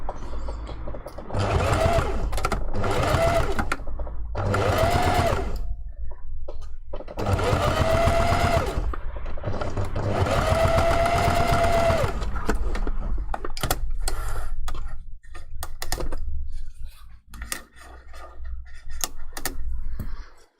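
A sewing machine stitches a fleece fursuit paw pad in repeated whirring bursts of rapid needle clatter, each run lasting a second or more and separated by short pauses while the fabric is repositioned; the sound is close and loud.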